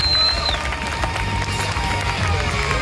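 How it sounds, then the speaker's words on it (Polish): A crowd applauds and cheers after a skateboarder's run at a Polish Cup skateboarding contest stop in Chrzanów, a dense, steady roar of clapping and shouts throughout. "Wielkie, wielkie brawa!"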